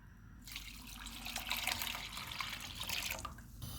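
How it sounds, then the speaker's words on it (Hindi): Water poured in a steady stream into a cooking pot of lentils with spices, splashing and gurgling softly for a few seconds before stopping, faint and close. "इसमें 3 कप पानी डालेंगे"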